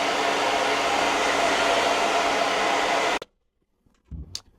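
A hair dryer running on low heat blows as a loud, steady rushing roar for about three seconds, then cuts off abruptly, followed by a brief faint clatter.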